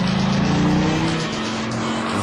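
Dodge Viper SRT-10 with its 8.3-litre V10 engine driving, a steady loud engine drone with a sustained low tone that eases off slightly partway through, heard alone without talk.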